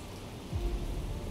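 Rain falling steadily in the naval warfare video game War on the Sea, a soft continuous hiss that swells slightly louder partway through, with no voices.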